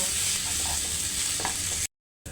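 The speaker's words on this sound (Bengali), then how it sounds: "আর দেব মাংসের মশলা এখন হালকা নাড়িয়ে নেব" Noodles stirred with meat masala in a hot pan, a continuous close sizzle with light scraping that cuts off abruptly near the end.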